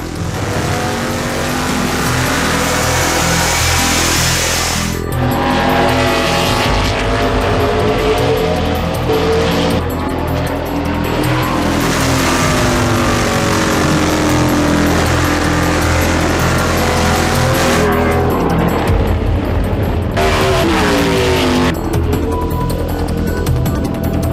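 A NASCAR stock car circling an otherwise empty track during brake testing, its engine roaring loudly with rising and falling revs as it accelerates, lifts and downshifts, passes repeating over the length without talk.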